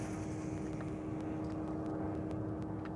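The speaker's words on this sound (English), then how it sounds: "it sounds like a paper airplane that they like spun with a rubber band or something" A small propeller airplane flies overhead during a bass fishing outing, giving a continuous, moderately distant droning hum that stays even for several seconds, with faint clicks and no talk.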